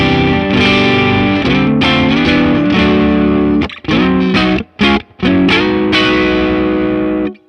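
Electric guitar played through an overdrive pedal in the AmpliTube 5 amp simulator gives a thick, saturated, sustained tone with chorus-like shimmer, broken midway by a few sharp stops and choppy stabs before ringing on again.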